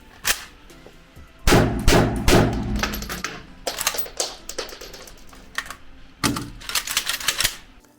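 AK-47 being reloaded Iraqi-style, charging handle held back while the magazine is swapped, giving a series of sharp close metallic clacks and rattles in irregular bursts, with quiet pauses between.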